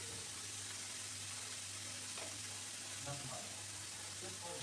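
Minced meat with coriander and spices stirred in a pan, a faint, steady low sizzle with soft scraping touches, heard close and alone.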